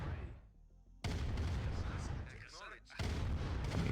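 Tank battle gunfire from Command & Conquer: Red Alert Remastered comes as abrupt, heavy booming bursts. Each blast cuts in suddenly and rumbles on, with a brief lull between them and a faint voice briefly audible.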